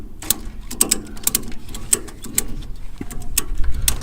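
A ratcheting clamp is tightened to secure a motorbike upright on a trailer, producing loud, close, rapid clicking in uneven bursts over about four seconds.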